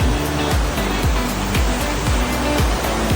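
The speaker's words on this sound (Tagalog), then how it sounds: "this is the falls" Cambugahay Falls, a waterfall of turquoise water on Siquijor, roars with a loud, steady, unbroken rush of falling water close by, with no pauses and no voices.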